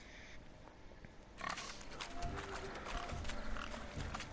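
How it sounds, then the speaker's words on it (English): Pigs squeal and grunt in a rowdy pig-catching contest at a village wedding in The Witcher 3 video game, a busy, continuous mix of snorting animals and commotion that swells after a quieter start. "Look at the fools falling over themselves to catch a painted pig."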